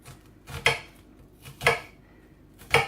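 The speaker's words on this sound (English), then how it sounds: "turn it round, then chop down, almost following the lines, the grain of the onion" Three crisp knife chops through an onion strike a cutting board at an even, unhurried pace, close up with quiet pauses between.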